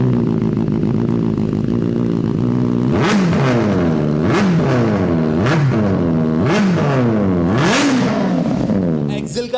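A second-hand superbike fitted with an aftermarket exhaust and decat full system revs hard and near, with four or five sharp throttle blips rising and falling over a steady idle.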